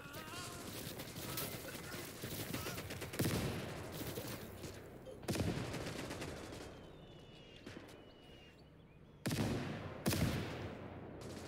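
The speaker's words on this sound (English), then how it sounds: "Delicious mortars." Mortar fire in the war game Call to Arms: Gates of Hell, with several loud booming blasts at uneven intervals over a continuous backdrop of distant gunfire and battle noise.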